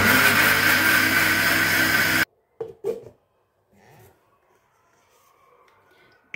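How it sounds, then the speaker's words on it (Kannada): A kitchen mixer grinder churns cream and water into butter with a loud, steady motor whir for about two seconds, then cuts off, leaving a few faint knocks and near silence. "ಮಿಕ್ಸಿನಲ್ಲಿ ನಾನು ಬೆಣ್ಣೆ ಮಾಡ್ತಾ ಇದ್ದೀನಿ"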